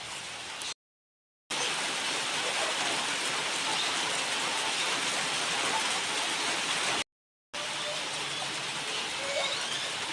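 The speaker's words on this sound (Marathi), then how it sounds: "फक्त नॉर्मल पाऊस पडतोय बारीक" Steady light rain patters continuously in an open space onto heated ground, a soft even hiss with scattered drops, interrupted by two brief gaps of silence.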